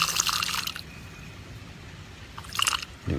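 Water is poured into a container in two splashing bursts, one at the start and one near the end, with a quiet pause between them.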